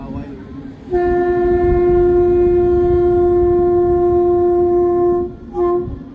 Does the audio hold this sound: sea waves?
no